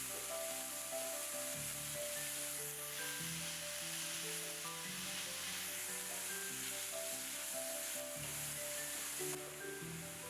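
Diced bell pepper, carrot, scallions, onion, garlic and ginger stir-frying in a pot, a steady close sizzle with occasional stirring scrapes, no talking.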